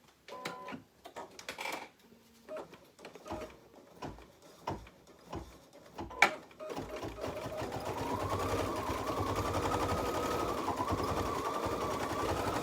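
An embroidery machine stitches a Happy Halloween design. Scattered clicks and taps give way to a steady, fast mechanical whirring hum of stitching that holds to the end.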